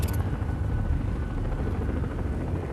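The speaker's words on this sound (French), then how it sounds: "Ah, encore un drone." A drone flies in the Batman: Arkham Knight video game, giving off a continuous rotor-like whirring drone that stays steady and fairly loud throughout the short moment.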